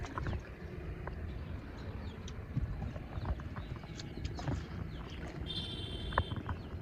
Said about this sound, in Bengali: সে নৌকা বাইতেছে।